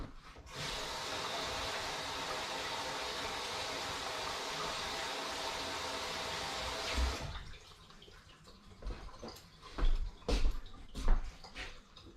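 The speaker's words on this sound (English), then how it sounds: "Let me wash my hands" Tap water runs in a steady broadband rush as hands are washed in a home kitchen during roast preparation, then cuts off around seven seconds, leaving scattered drips, rubs and clatter.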